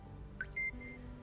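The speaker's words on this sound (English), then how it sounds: "If I have to feed him to get the happy beep" A soft in-game happy beep from the Ozmafia video game: a short blip followed by a brief sustained electronic tone, faint and alone.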